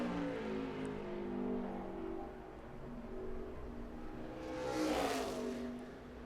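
A NASCAR Nationwide Series race car runs a qualifying lap at Phoenix in 2009, heard as a faint, distant engine drone that rises briefly as the car sweeps nearer, then fades again.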